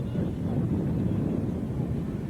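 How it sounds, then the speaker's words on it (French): Steady wind blowing across the microphone at an outdoor model aircraft competition in Issoire, a constant loud low rumble with no other sounds standing out. "Vous voyez, le vent est bien soutenu."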